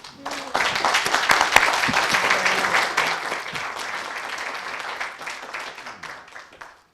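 Warm audience applause welcoming Dr. Warren Simmons at a Generation All speaker series event, a crowd clapping steadily and loudly before gradually tapering off to silence over several seconds.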